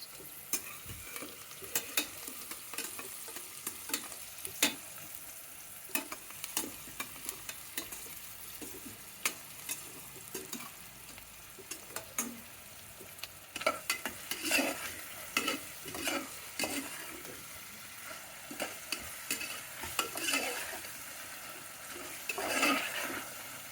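Bagara rice ingredients fry with a steady low sizzle as a spoon stirs and scrapes the pan in irregular bursts, the clinks growing louder and busier toward the end, with no talking.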